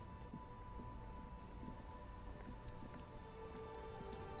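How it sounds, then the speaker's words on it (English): Steady rain falling in the video game Disco Elysium, a dense even patter of drops on surfaces that holds at one level throughout, with no voices. "Stuck in the rain."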